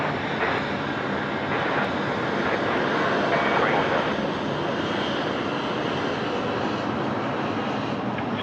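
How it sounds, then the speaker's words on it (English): Sri Lankan Airlines Airbus A330-300 on final approach to runway 34 left at Sydney Airport, a steady, fairly loud jet roar that holds constant throughout, with airport radio chatter faintly underneath. "It's an A330-300 on finals, runway 34 left."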